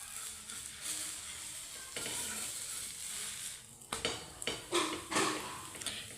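Batter sizzles steadily as it fries in a pan, then a utensil scrapes and clatters against the metal as the pieces are flipped, with sharp clinks and renewed sizzling.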